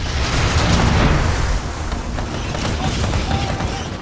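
A grenade explosion in the shooter game Titanfall 2, a loud rumbling boom that rolls out over a few seconds amid steady battle noise.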